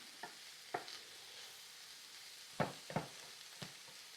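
Cabbage cooks with bacon in a pan, with a soft, steady sizzle under a few separate stirring scrapes and clatters that come close and fairly quiet, with no talking.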